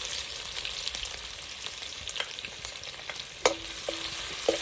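Finely chopped ginger and garlic frying in hot oil with cumin seeds for a mixed vegetable soup, a soft continuous sizzle broken by light clicks and a few sharp taps of a spoon against the pan, with no talking.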